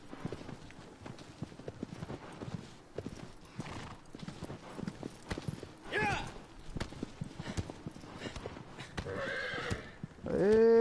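A horse in the game Shadow of the Colossus gallops with steady rapid hoofbeats, then neighs loudly near the end, with someone talking over it.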